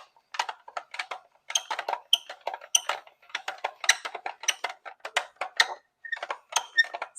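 A hand-cranked spiralizer cuts zucchini into noodle ribbons, producing rapid irregular clicks and scraping crunches in quick bursts, close and fairly quiet, with no talking.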